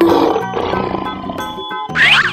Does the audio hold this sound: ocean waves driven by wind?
no